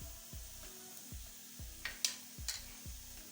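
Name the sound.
onions frying in a pan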